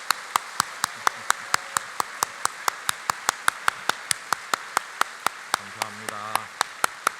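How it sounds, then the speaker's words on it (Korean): Korean church congregation clapping in unison, sharp evenly spaced claps in a steady rhythmic beat continuing throughout, with a brief murmur of voices near the end. "우리 뜨거운 박수를 한번 더 하도록 하겠습니다"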